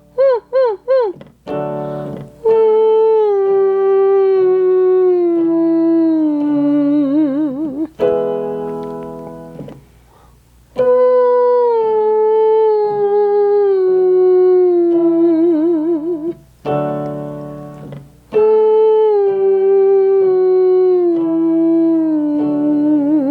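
A singer imitates a puppy dog whine during a vocal range exercise, sliding down in repeated whimpering glides between short piano chords, close and clear.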